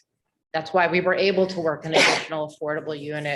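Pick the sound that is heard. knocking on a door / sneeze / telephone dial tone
sneeze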